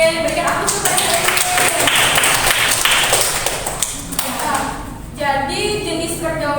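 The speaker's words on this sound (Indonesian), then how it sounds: "Berikan aplaus kepada Halim." Classmates applaud Halim in a school classroom, a burst of scattered hand claps and taps lasting a few seconds that thins out toward the end, with a voice talking over it.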